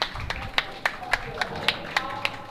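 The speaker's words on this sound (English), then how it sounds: "you'll hear the applause from the warm room as people start to come out" Sparse, separate claps at a curling event, a handful of sharp hand strikes in an irregular rhythm against a quiet, roomy background.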